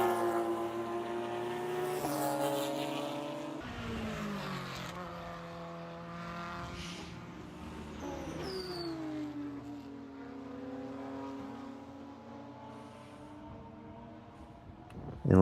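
Race cars, including a Porsche Cup car and a Corvette, scream past at the Watkins Glen eight-hour endurance race, their engines droning and shifting pitch as they rev and pass at a distance.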